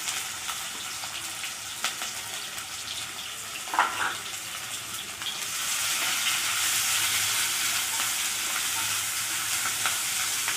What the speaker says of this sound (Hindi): प्याज को भल भाव टे भाजी लबा